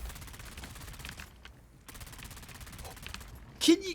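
Gunfire in the Dune: Awakening video game, a dense rattling fusillade of rapid shots running under the player's voice, dropping briefly before a sharp louder burst near the end.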